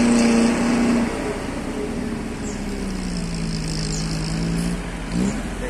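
A vehicle with a raised exhaust pulls away through high flood water, its engine rumbling steadily and closely, with a drawn-out tone that rises and falls as it moves off.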